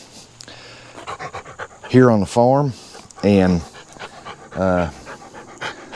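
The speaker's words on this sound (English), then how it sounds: "Oakley is our farm dog" An old ten-year-old farm dog named Oakley pants softly and rhythmically near the microphone on the farm, mostly buried under a man's close, steady talking.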